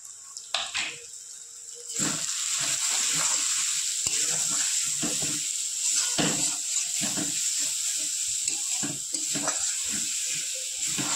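Mutton masala with ginger, garlic and spices is stirred and sautéed in a pan: a few clanks, then a loud, continuous sizzle from about two seconds on, punctuated by repeated scraping strokes of the spoon.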